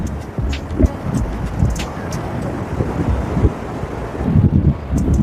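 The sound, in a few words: strong wind at Bakkhali beach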